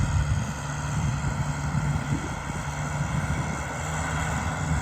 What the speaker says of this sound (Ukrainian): Ось у нас тракторець Юто 1054 з плугом Агромаш.